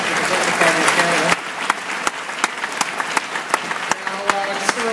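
Audience applause in a theatre after a Conservative Party of Canada leadership debate in Vancouver: a dense, loud burst of clapping that thins after a second into scattered, separate claps, with a voice faintly over it.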